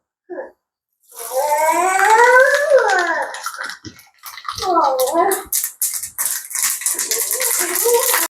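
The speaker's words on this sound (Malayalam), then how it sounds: "നമുക്ക് ആവശ്യത്തിനുള്ള കടുക് ഇട്ട് കൊടുക്കാം." Mustard seeds splutter in a hot pan for a tempering on paal kappa, a loud, sustained crackling hiss close by. Brief talk comes before and during it.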